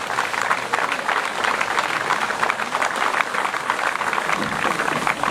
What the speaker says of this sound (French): on peut également applaudir bien fort les gens de l'amicale bouliste